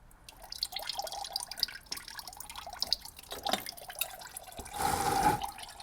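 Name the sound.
coolant draining from Audi Q5 EA888 engine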